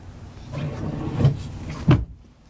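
Drawers in the small vanity of a Forest River FR3 30DS Class A motorhome slide and shut, with a rolling slide followed by two firm close-up thumps, the second ending in quiet.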